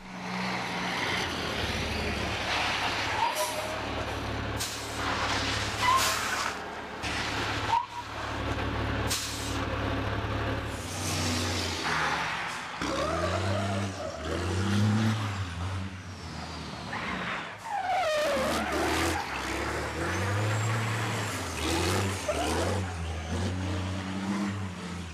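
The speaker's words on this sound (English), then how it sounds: "This lorry driver is skillfully maneuvering a lorry." A lorry maneuvers nearby, its engine revving up and down with shifting pitch, punctuated by air brake hisses and heavy mechanical clunks.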